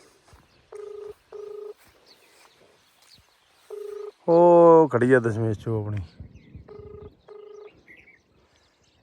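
A phone's ringback tone repeats in short paired beeps, goes unanswered, and someone speaks briefly between the rings; quiet room otherwise.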